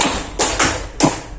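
Group hand claps in a classroom ice-breaking clap game, three sharp, loud unison claps spaced roughly half a second apart, with no talking.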